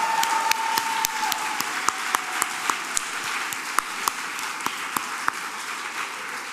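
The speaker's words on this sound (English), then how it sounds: "Can you please join me in one last round of applause for our incredible honorees?" An audience at a philanthropy celebration applauds the evening's honorees, steady moderate clapping filling the hall with sharp individual claps standing out.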